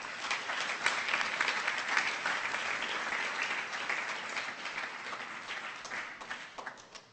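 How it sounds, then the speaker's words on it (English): Congregation at a Sunday gathering gives volunteers a round of applause, dense sustained clapping that stays fairly even for several seconds, then thins into scattered claps as it fades out. "give them a big round of applause."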